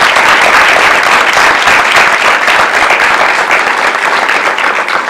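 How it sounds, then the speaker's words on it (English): Sustained applause from an audience at a school district board meeting honoring students, a dense, steady wash of many hands clapping at close range for several seconds without talk. "another round of applause for these outstanding students."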